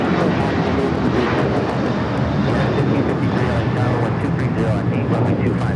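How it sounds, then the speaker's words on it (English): An American Airlines Boeing 737-800 takes off at LAX, its jet engines a steady, loud broadband roar that holds throughout, with voices talking over it. "That is American Airlines 1084 taking off to Chicago on the 737-800."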